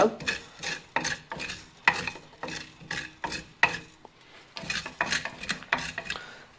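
Cumin seeds and black peppercorns dry roast in a pan, with a rhythmic series of scraping, rasping stirring strokes that repeat roughly every half second, close and fairly quiet.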